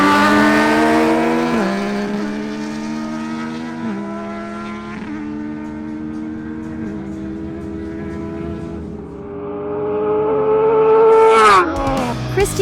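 A Yamaha MT-09 and a Suzuki GSX-S750 launch in a drag race, their engines screaming upward through repeated gear changes, each shift marked by a brief dip before the pitch climbs again, loud and close.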